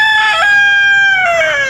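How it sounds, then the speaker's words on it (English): A free-range rooster crows once, loud and close, a drawn-out harmonic call rising then falling, with no other sounds or voices. "The free range chickens,"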